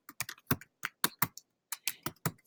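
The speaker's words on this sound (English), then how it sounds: "you can start typing in what you want" Keys tapped on a computer keyboard in quick irregular bursts of close, crisp clicks, about a dozen strokes with short pauses, no voices.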